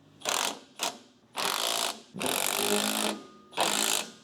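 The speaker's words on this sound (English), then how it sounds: "I like using the impact because it's just a quick shot to snug all this stuff up." Impact wrench snugging up bolts on a John Deere QA5 reel during a reel shaft bearing and seal replacement, giving five close, loud bursts of rattling hammering. The first two are short, and the last three run longer and steadier.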